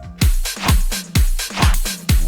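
A drum beat programmed in Ableton, with a reversed clap sample swelling into beats two and four, so punchy kicks alternate with rising whooshing claps in a steady, loud loop.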